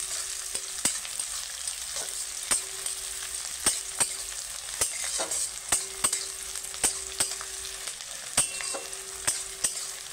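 Chillies and onions fry and get stirred in a pan for village-style onion chicken, a constant soft sizzle punctuated by regular sharp clacks of the spatula against the pan, close by and with no talk.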